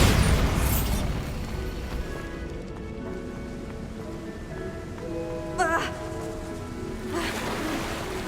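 A Bombarda spell from Hogwarts Legacy detonates with a heavy boom and a rain-like crackle of debris, then settles into a lingering ambient wash broken by a few smaller bursts.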